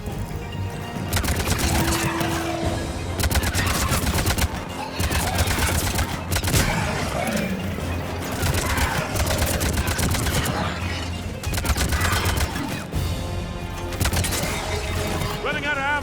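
Sustained gunfire in Mass Effect 3, dense rapid bursts of shots rattling almost nonstop for over fifteen seconds with brief gaps, loud and close, with voices shouting underneath.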